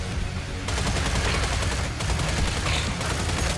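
Rapid automatic turret fire mowing down zombies in the video game Killing Floor, a dense, loud burst of continuous shots that runs the whole length without pause.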